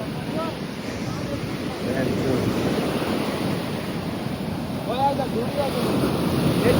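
Sea waves wash ashore at Dwarka beach around sunset: a steady, continuous roar of surf with gusty wind buffeting the microphone and a few faint distant voices.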